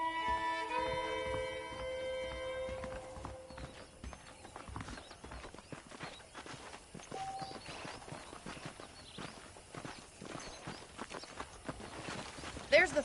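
Horses' hooves clip-clopping in the Western video game Red Dead Redemption, a steady rhythmic run of hoofbeats over a short tonal music cue at the start, with faint mechanical creaks and voices present underneath.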